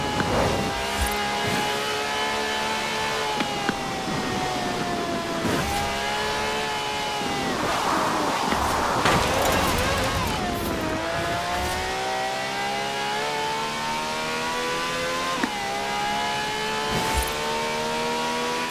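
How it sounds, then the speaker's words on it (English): A V12 engine of over 750 horsepower in Forza Horizon 4 drones loud and steady, shifting gears in several clear steps and surging to higher revs, with a brief burst of tire noise partway through. "No clattery diesel engine here. This has a V12 with over 750 horsepower"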